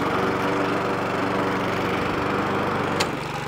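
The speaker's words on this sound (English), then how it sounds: "Push the rotor clutch in. Locked into place. Blade is now spinning, I can feel it." Refurbished lawnmower running with its rotary blade clutch engaged, a loud, close, steady engine drone with whirring blade noise and a brief knock near the end, with no talk.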